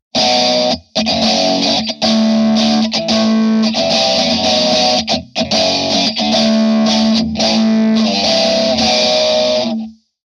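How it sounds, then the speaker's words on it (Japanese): A heavily distorted electric guitar through a Death By Audio Disturbance flanger with its modulation width at zero, strummed chords with a hollow, fixed comb-filtered tone and short breaks between phrases. "なかなか揺れないフェイザーとかフランジャーの音って聞いたことないですよね。"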